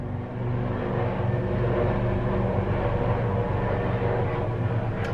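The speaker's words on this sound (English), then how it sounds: "Chopper." A steady low rumbling drone of a helicopter overhead, loud and continuous throughout with a rhythmic low-frequency throb.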